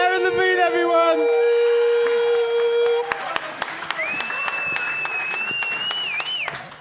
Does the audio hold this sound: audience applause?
yes